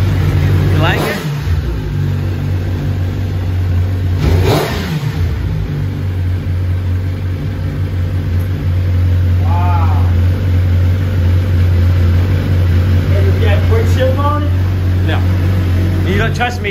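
A Suzuki GSX-R 1000 motorcycle engine runs with a steady, loud low drone and only slight rises in pitch, while people talk over it.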